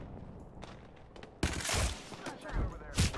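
Gunfire in the battle royale game Apex Legends, a burst of rapid shots starting after a quiet moment, with a few more loud bursts following, close and sharp.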